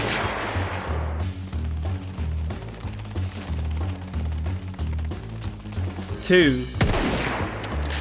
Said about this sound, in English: Next, shoot the 3 weather vanes.